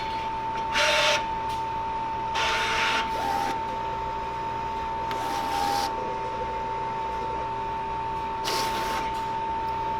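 Vinyl cutting machine measuring a 12 by 12 inch sheet before cutting a glass-etching stencil: a steady mechanical hum broken by four short bursts of carriage movement, spaced a few seconds apart, fairly near and with no speech.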